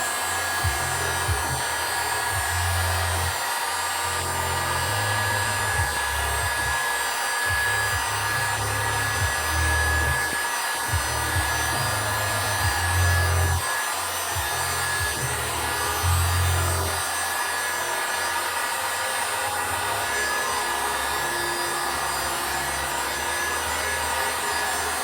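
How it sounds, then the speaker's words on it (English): A heat gun blows steadily over Lichtenberg-burned wood art being colored, its continuous airy hiss running throughout with low rumbling pulses and faint rubbing, and no speech. "Hit that with the heat gun as well."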